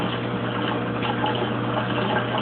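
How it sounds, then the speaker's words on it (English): A Kenmore Oasis washing machine pumps and drains rinse water, giving a steady watery hum with a constant low drone that runs unbroken and fairly close. "Still pumping, draining."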